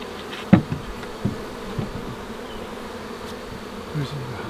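Honey bees buzz steadily and closely at an open hive throughout, with a few sharper knocks and a brief louder burst near the start.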